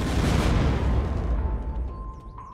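Explosive charges detonate in the survival game Unturned with a loud, broad boom that gradually fades into a long ringing tail.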